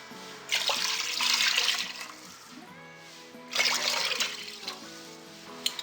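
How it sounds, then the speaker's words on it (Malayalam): Water poured into a pot of rice for a parboiled beef biryani comes in two splashing gushes separated by a short pause, close and fairly quiet, with faint clinks and a tonal hum between the pours. "ഇനി ഇതിലേക്ക് 4 കപ്പ് വെള്ളം കൂടെ ഒഴിക്കാം."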